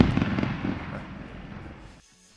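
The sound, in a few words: fireworks show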